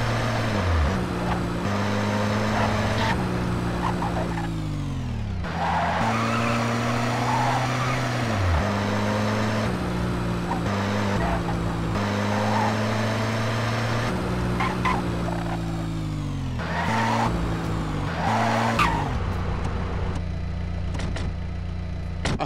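Car engine droning steadily in Grand Theft Auto San Andreas, with shifting engine pitch, loud and continuous, under game dialogue.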